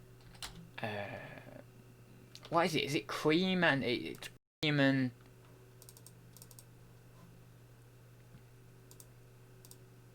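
Light clicking of a computer keyboard during typing, soft and intermittent beneath a person talking, with a few brighter key taps later in the quiet stretch.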